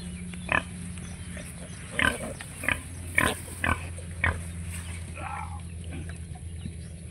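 A few short, low grunts from a sow at irregular intervals over a steady background hum, moderately close and not very loud.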